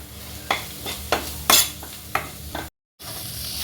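Coriander and other spice powders frying in a pan, stirred with a spoon in a few distinct scrapes over a soft sizzle, close, before a brief cut to silence.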